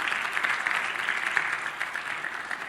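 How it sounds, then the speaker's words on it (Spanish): A church congregation applauds during a Spanish-language sermon: dense, steady clapping from many hands fills the room at moderate volume for the whole stretch, with no voice on top. "¿Cuántos les pueden dar un fuerte aplauso al Señor por eso?"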